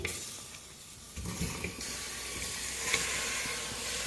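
Half a kilo of mutton hits a hot clay pot for potato mutton curry, a soft hiss building into a steady, moderate sizzle that continues with faint stirring and bubbling.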